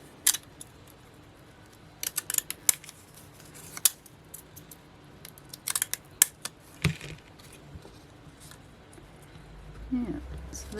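Sharp, crisp snipping clicks of small scissors cutting paper edges come in short irregular bursts, close up, with quiet pauses between cuts and a low rustle near the end.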